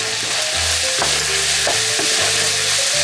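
A potato mixture for potato balls is stirred in a copper-coated pan, with a constant loud sizzle and repeated scraping passes of the spoon at a steady rhythm.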